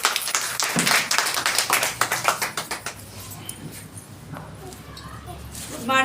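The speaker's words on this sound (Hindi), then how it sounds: "आप भी इनके लिए जबरदस्त ताली।" An audience at an indoor gathering claps in a loud burst that thins into slower, uneven claps, then fades into quieter room sound with voices talking.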